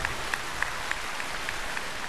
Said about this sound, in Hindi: जोरदार तालियां है भारती के लिए